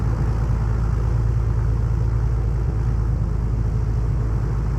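A simulated light aircraft piston engine idles on the ground around 1000 RPM in Microsoft Flight Simulator 2024, a loud, steady, unbroken drone with no voices.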